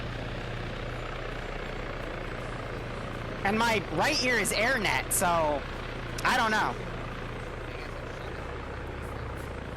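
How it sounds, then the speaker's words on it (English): A helicopter's rotor drones steadily and close by throughout a military video game battle, while someone speaks over radio-style chatter on top of the constant engine noise. "I could have been drowned out because I was next to that chopper"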